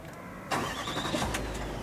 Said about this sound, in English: here's the start button just here, foot on the brake